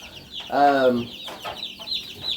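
Cornish Cross meat chicken chicks peeping in a few short, high bursts, fairly close and moderately quiet, with one longer fuller call standing out.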